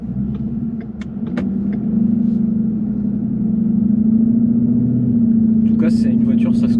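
A 2017 Ford Mustang GT drives along with a steady, deep engine rumble that swells slightly as it pulls, with a few sharp knocks and a voice briefly heard near the end.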